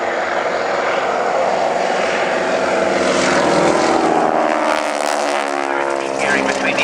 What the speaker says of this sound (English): the booming, the rasping sound of these aircraft, it derives from the fact that the propellers are directly driven